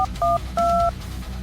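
Three quick touch-tone beeps of a phone being dialed, each a short steady dual tone, over a low background hum.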